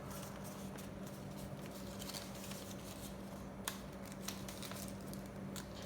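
Paper being creased and folded by hand into an origami flapping bird gives faint, close crinkles and soft rustling, with a few sharper crisp snaps standing out against a quiet background.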